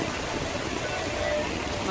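Heavy rain pouring down at a weekly outdoor market in Rajapur, a continuous dense hiss of water on the streets with no break.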